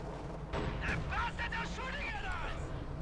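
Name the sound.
artillery bombardment in Company of Heroes 2 video game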